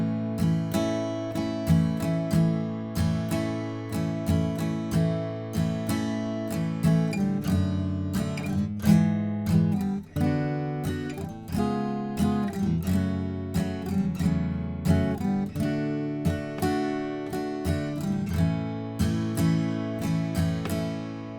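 Guitar plays through the first verse of a song from Aladdin, with steady, rhythmic strumming of ringing chords for about twenty seconds, close and clear with no voices.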